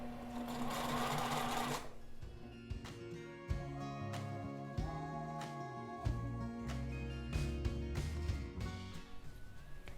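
A sewing machine stitching in the ditch along a bodice seam, a quiet, close mechanical hum with a rapid rhythmic clatter, broken by short pauses and faint handling clicks; no talking.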